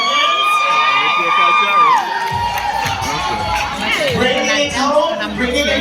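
Loud audience cheering and high-pitched whoops and shouts for a model at a show, a dense crowd roaring continuously with a voice speaking through it.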